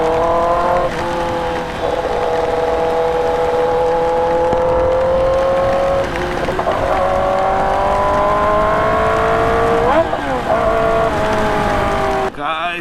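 A Kawasaki H2 motorcycle rides through heavy rain with its tyres slipping, its engine droning steadily with rising and falling revs over a constant wash of wind and spray, loud and close for the whole stretch.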